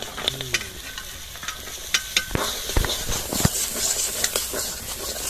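Masala with peas frying on a low flame gives a soft, steady sizzle, broken by sharp scrapes and clacks of stirring, close by and with no voices.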